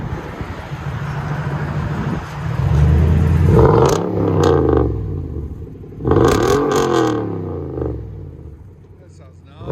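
A Camaro engine with its muffler and exhaust cut off revs hard in two loud, rising bursts, nearby and outdoors, with a rough idle rumbling between them.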